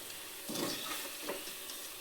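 Cauliflower (gobi) pieces frying crispy in hot oil for a dry gobi snack, a soft steady sizzle and hiss with a few brief bubbling swells, faint and heard alone.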